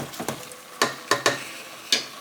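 Collard and mustard greens boil in a pot, giving off a steady hiss broken by several sharp, crackling bursts of bubbling and spatter at irregular intervals, close and fairly loud, with no voices.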